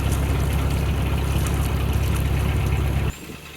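Boat engine running at steady revs with a dense, continuous low rumble and water wash, the engine then cut back sharply near the end to a quieter idle.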